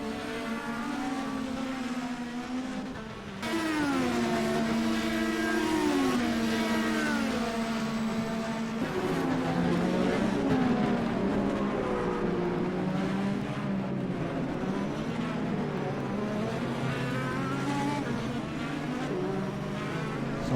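IndyCar race cars at the Grand Prix of Indianapolis, a continuous high-pitched engine whine rising and falling as cars pass and shift, loud and sustained over the whole stretch with layered engine tones from several cars.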